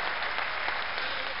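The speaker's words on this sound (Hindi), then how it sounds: "एक बार राजू श्रीवास्तव भैया के लिए डबल ताली बजाइएगा" A crowd at the Kumbh Mela camp in Ujjain gives dense, steady applause for comedian Raju Srivastav. The clapping stays loud and unbroken throughout, with no voices over it.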